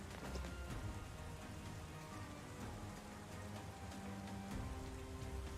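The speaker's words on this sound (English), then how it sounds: "It just started pouring all of a sudden." Steady heavy rain pours down across a Land of Rain area in Persona 5: Strikers, a dense continuous hiss with scattered drop patter and a faint low tonal hum beneath, no voices.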